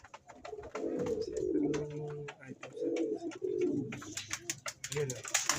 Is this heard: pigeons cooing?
yes